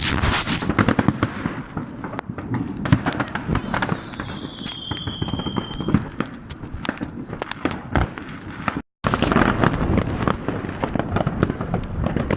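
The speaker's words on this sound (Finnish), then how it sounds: "Sitten meillä löytyy vikana tästä Night Light, tämmönen pata." A Night Light firework cake going off on New Year's, a dense, continuous barrage of crackling bursts and thuds with a brief whistling rise, loud and sustained, a short gap near the end and no talk.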